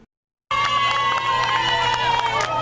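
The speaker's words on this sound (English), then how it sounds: "they pull up to a cheering crowd in Milwaukee" A large crowd in Milwaukee cheers loudly and continuously as the Nuns on the Bus tour bus pulls up, with whoops and shouts rising from a sudden start after brief silence.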